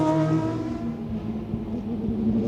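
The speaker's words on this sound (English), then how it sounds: "The whine of the gearbox, the whistle as it pierces through the air." Historic race car at speed on the Lavant straight at Goodwood Members' Meeting, a steady engine drone with a whining gearbox tone throughout, loud and close with no talk.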